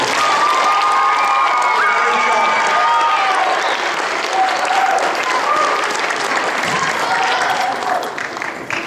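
A crowd in a school auditorium applauds and cheers the D.A.R.E. seniors at a graduation ceremony. The clapping is loud and sustained, mixed with cheering and children's shouts and some voices in the crowd.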